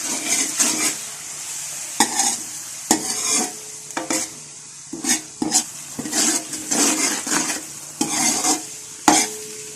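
Masala of tomatoes, salt, red chilli powder and turmeric sizzles in a pan for aloo gobi matar while a spoon scrapes and stirs it briskly and repeatedly, close and clear, with steady frying hiss beneath the irregular strokes.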